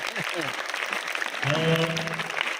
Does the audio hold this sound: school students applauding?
yes